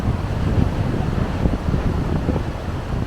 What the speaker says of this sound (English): That's a lot of water coming over there.